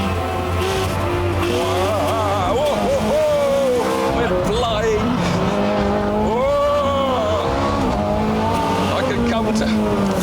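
A Ferrari 430 Scuderia sliding under power oversteer, its tires squealing in long wavering shrieks over a loud, revving V8 engine, with a voice talking over the noise.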